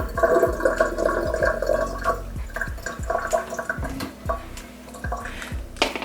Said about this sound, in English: I like to just go in and just boil it a bit with the saltfish as well, and just rinse it off.